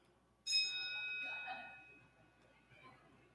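An electric voting bell rings in a state House of Representatives chamber, a steady bright tone lasting about a second before fading into quiet room ambience.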